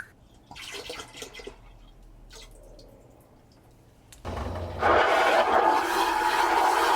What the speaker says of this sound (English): I just like to flush it twice